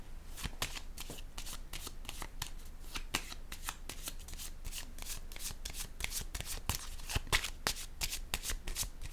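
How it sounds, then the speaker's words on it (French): Tarot cards being shuffled by hand, with dense rapid riffling snaps repeating steadily at close range and fairly quiet, with no talking over them. "Je vais piger une autre carte tout de suite sur le plan."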